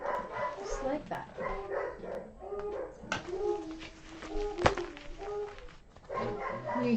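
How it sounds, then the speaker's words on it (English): An 85-pound puppy and another dog bark and yip excitedly indoors in short, irregular bursts, mixed in with a person speaking nearby. "The dogs are so excited."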